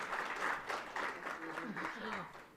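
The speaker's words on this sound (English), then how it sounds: "Can we have a big round of applause for the team members and the speakers" Audience applause at the close of an energy-themed event, honouring team members and speakers; a steady wash of clapping runs through the clip, with tonal voices faint beneath it.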